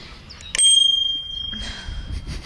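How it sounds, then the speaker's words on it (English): A single bright bell ring on a fat-tire electric bike, sharp and close, its metallic tone sustaining and slowly fading over a couple of seconds against faint outdoor background noise. "It has a nice bell."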